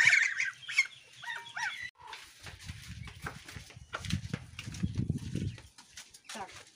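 Farm geese, goslings about six weeks old, honk and babble close by, then fall to low gabbling; someone speaks over them at the start.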